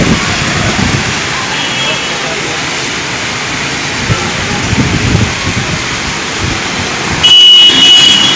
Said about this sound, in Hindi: तेज हवा के साथ पानी की बौछारें